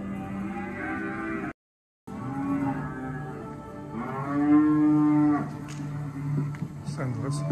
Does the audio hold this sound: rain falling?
no